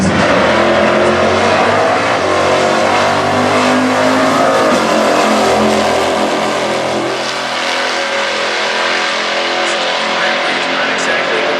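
A 1972 Buick drag racing car with a 350 cubic inch Buick engine roars loudly and steadily at a stock class eliminations event, engine noise filling the whole stretch while an announcer talks over it.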